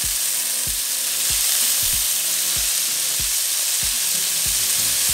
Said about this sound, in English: now we're just going to cook it until our bacon is fully cooked